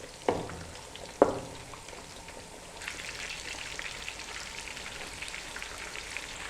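Fish scored with a knife frying in a pan over a low flame, a soft steady sizzle and crackle running throughout after two sharp knocks near the start, the sizzle growing brighter and fuller midway.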